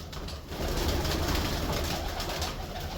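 Pigeons kept for pigeon flying games coo softly in their loft, giving a continuous low, murmuring burble at moderate distance over quiet background noise.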